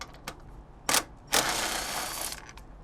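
A ratchet wrench works a bolt behind the plastic headlight housing of a GMC Sierra, making a few close, loud mechanical clicking bursts with a longer ratcheting run near the end.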